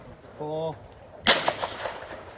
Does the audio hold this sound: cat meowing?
no